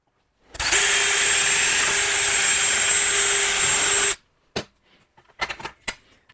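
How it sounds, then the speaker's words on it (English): A number 3 bit drills a hole through metal for a seat mount, one steady high whine lasting about three and a half seconds, then a few clicks and clatters as the tool is set down. "So this is a number 3 drill bit."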